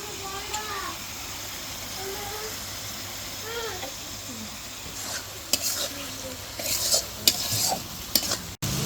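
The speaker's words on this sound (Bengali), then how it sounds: "নারিকেলের দুধ দিয়ে কিছুক্ষণ জাল করে নিছি" Fish curry with papaya and coconut milk simmers and sizzles in a pot throughout, with a few sharper clinks toward the end; a voice talks over the cooking and a cat meows faintly early on.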